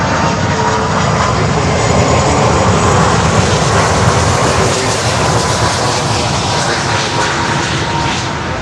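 A Boliviana de Aviación airliner arriving from Santa Cruz roars past at close range, its jet engines producing a loud, broad, unbroken rumble that stays steady throughout.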